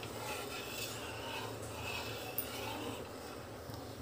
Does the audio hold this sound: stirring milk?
yes